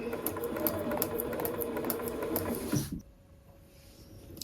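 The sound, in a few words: sewing machine stitching without thread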